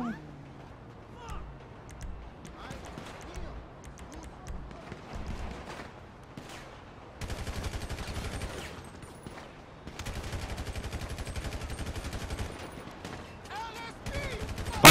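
MP5 gunfire in GTA Online, sporadic shots early on, then sustained rapid bursts of automatic fire from the middle onward, with game noise mixed in.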